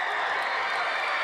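Crowd at a high school basketball game between Riverton and Cody, a dense wash of cheering and chanting filling the gym, loud and continuous.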